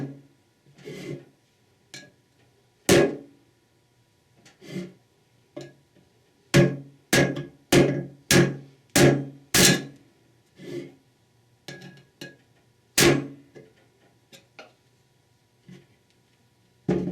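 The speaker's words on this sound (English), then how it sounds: "Use a hammer and large screwdriver to collapse and remove the front seal." Hammer blows drive a large screwdriver into the front seal of a Chrysler 46RE transmission, a run of sharp metallic taps, some spaced and some in a quick rhythmic burst, close and loud with no talking.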